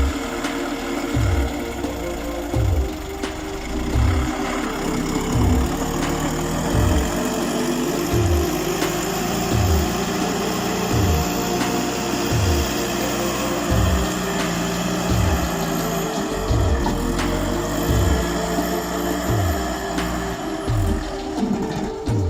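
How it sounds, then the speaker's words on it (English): A logging skidder's diesel engine labors on a forest road under a heavy load of logs, a steady, loud low-pitched drone with rhythmic pulsing chugs as it strains, continuous throughout with no talk. "the skidder powering through the forest road, carrying a heavy load of logs while blowing smoke from its exhaust"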